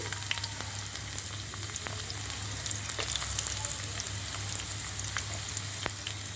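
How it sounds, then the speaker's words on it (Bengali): Cinnamon sticks, cardamom, bay leaf and chopped onion fry steadily in hot oil, a close, continuous crackling sizzle with faint stirring scrapes and no talk. "সবগুলি উপকরণ আমি একটু ভেজে নেব"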